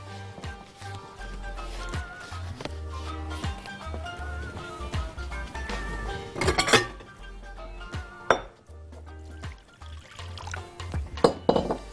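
In a home kitchen, a bowl of water is set down and handled while making ghorayeba cookies, with clinks and knocks of glass and dishes, a soft pour, and a few sharp louder clatters near the end.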